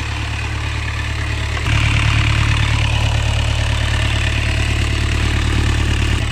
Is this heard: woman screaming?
no